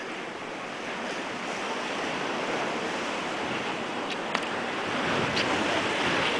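Sea waves wash steadily against the shore at Binibeca, a fishermen's village on Menorca, a broad continuous surf roar with light wind noise and no voices.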